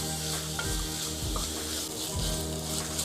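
Two large chopped onion pieces sautéing in a pan for Kuttanad duck mappas: loud, close sizzling with repeated scraping stirs of a spatula roughly every half second, no voices.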